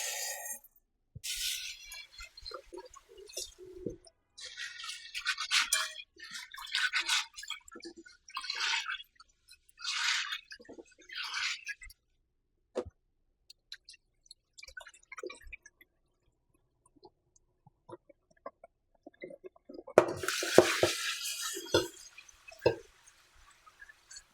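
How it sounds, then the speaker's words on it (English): Gungo peas being washed in water, with irregular splashing, rattling and dripping in close bursts between quiet gaps, and a louder swish of water near the end. "now I'm going to wash the peas before I add it to the pot"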